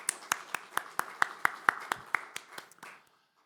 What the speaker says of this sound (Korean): 우리 다시 한번 우리 성가대를 격려하며 박수해 주시기 바랍니다